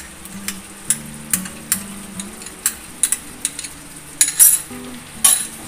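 Whisked sour yogurt goes into a pan of frying pointed gourd, bringing soft sizzling with repeated sharp scrapes and clinks of a spatula stirring at close range, with no voices.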